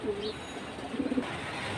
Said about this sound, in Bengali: এটা একেবারে তোতা শেপের কবুতর